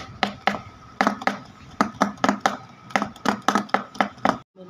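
Jilipi batter is whisked by hand in a bowl, making quick rhythmic taps and scrapes in irregular bursts, fairly loud and close, with no talking.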